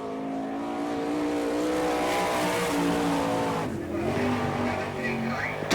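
Sprint car F1 on a qualifying lap of a dirt oval, a loud high-revving engine with sweeping pitch changes through the turns and a brief lift before powering on, with a voice talking faintly beneath.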